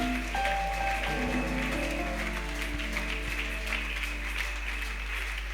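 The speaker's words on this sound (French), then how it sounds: "Est-ce que quelqu'un peut acclamer le Seigneur?" A church congregation applauding during a French-language worship service, steady sustained clapping filling the room with a low hum underneath and faint voices.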